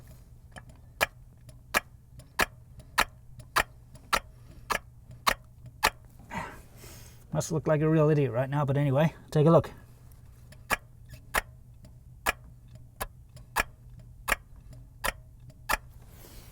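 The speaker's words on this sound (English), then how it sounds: "hear it opening and closing, so we know that the EGR valve itself is okay" EGR valve on a 1985 Toyota MR2 with around 400,000 miles, clicking open and closed as vacuum is applied by mouth, a steady train of sharp close ticks about every half second, briefly interrupted by someone talking.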